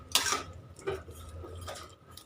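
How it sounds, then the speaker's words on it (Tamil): A spoon stirs semiya (vermicelli) in a pot for khara semiya, giving a few close clinks and scrapes of metal against the pot, each separated by a short pause. "சேமியாவை ஆட் பண்ணிட்டு அதை வந்து மிக்ஸ் பண்ணி விட்டுருந்தாங்க."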